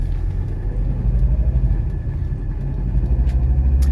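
A 1985 Mercedes 300CD with a cold engine drives gently on the road, giving a steady low engine rumble with road noise and no talking.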